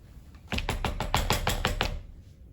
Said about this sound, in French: Puis il s'approcha de la maison et frappa à la porte.